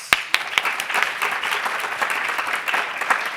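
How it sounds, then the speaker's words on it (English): A conference audience at PyData London 2022 lightning talks claps briefly, dense close applause with a few sharp individual claps at the start and no voices over it. "Round of applause."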